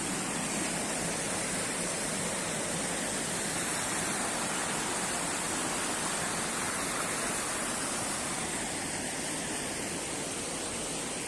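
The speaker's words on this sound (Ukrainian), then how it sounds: "Це великий водопад." Steady, dense roar of rushing water fills the whole clip, a broad continuous wash from a large river waterfall heard up close with no breaks.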